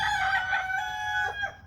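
Jumbo Cornish Cross chickens penned on a rainy day, clucking and crowing close by in a short, loud burst of bird calls, with no talk.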